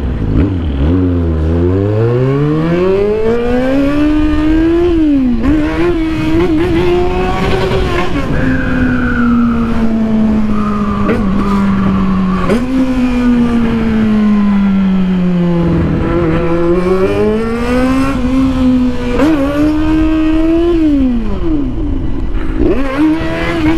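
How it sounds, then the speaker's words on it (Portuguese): A Yamaha XJ6 motorcycle engine revs repeatedly, its pitch climbing and falling in loud, sustained sweeps, close and alone without talk. "O ronco dela eu acho mais interessante."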